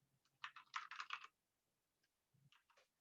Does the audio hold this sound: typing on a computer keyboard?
yes